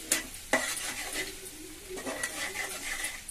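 Ginger garlic paste fries in a pan for a Telugu kakarakaya tamarind curry, giving a soft, steady sizzle broken by a few sharp spoon scrapes and stirring clatters against the pan.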